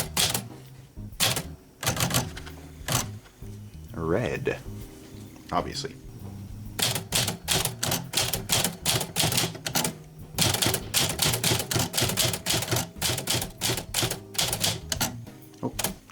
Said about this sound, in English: now we can begin typing in red ink